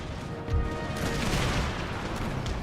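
Musket volleys and cannon fire crackle and boom in a dense, continuous battlefield din from the Empire Total War Empire 2 mod, with a heavier burst of shots swelling after the first half second.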